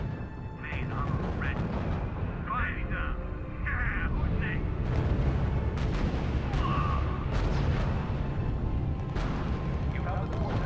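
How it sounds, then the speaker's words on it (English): Field artillery battalion firing in the strategy video game RUSE: a dense, continuous low rumble of distant booms and battle noise, with brief higher radio-like blips and voice fragments scattered through it. "The Field Artillery Battalion is opening fire."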